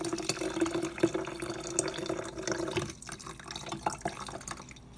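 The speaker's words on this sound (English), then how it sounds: "So now you're going to add your simple syrup." Simple syrup pours into a drink with a steady trickling and dripping of liquid that runs for a few seconds and then thins into lighter drips.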